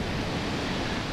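Wind blowing across a camera microphone at the seaside in Alushta, Crimea, a brief dense broadband rush that is loud and steady, with no voices.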